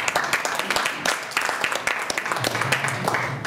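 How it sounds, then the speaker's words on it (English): An audience at a state university regents meeting gives brief applause, with uneven clapping and a few voices murmuring underneath. "Give him a round of applause."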